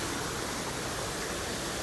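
Steady broadband rush of a waterfall beside the Kalalau Trail on Kauai's Nāpali Coast, close and continuous with no breaks or voices.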